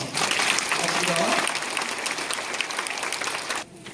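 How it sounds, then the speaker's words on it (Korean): Church congregation applauding together at a parish meeting, a dense steady clatter of many hands that holds loud for a few seconds and then cuts off sharply. "그리고 박수 한 번"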